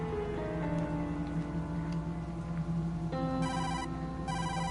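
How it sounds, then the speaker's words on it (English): In the video game Tokyo Dark, a phone rings with two short electronic trilling bursts near the end, layered over a sustained humming background score, clear and prominent with no voices. "How do you answer the frickin' phone,"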